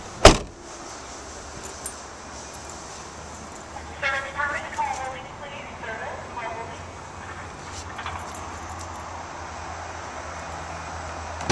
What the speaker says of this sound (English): You can hear the way the doors are shutting as well.